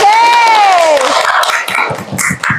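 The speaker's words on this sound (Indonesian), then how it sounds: "Tepuk tangan untuk kita semua." Classroom audience clapping and cheering briefly after a tonal sweep, with scattered voices and children's shouts mixed in as the applause fades and flares.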